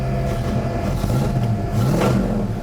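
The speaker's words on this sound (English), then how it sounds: "rev it up, you see that works." A 1964 Ford Falcon engine revving up close, a loud steady rumbling drone that rises and falls in pitch over a few seconds.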